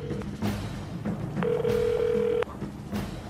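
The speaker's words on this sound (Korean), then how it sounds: "그녀와 전화 연결을 시도해봤습니다." A phone call to a mobile number that goes unanswered gives a telephone ringback tone, a single steady electronic tone lasting about a second. Faint background noise comes before and after it.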